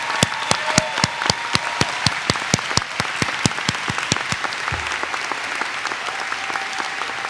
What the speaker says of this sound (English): Please give the early childhood bachelor's degree recipients a round of applause.